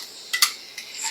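Half a cup of chopped onions drops into a pan of melted butter, with a couple of short clinks and a soft rustling patter at close range and no voices.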